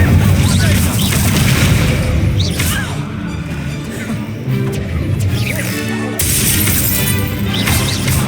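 Incendio fire spell cast in the Hogwarts Legacy video game, loud booming and crashing bursts with whooshes, repeated in dense waves over game music and effects, with a voice shouting the spell name.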